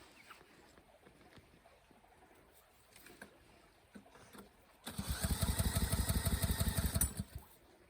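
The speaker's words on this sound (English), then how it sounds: "Pump is going." A pump starts up outdoors on a frosty day, bursting into a loud, rough, throbbing drone about two-thirds of the way through and running for roughly two seconds before cutting out. Quiet scattered outdoor noises come before it.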